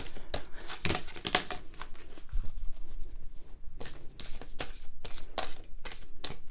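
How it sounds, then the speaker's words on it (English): Tarot cards are shuffled repeatedly up close, bursts of crisp riffling and papery flicks coming in quick irregular clusters. "I'm going to do one more shuffle"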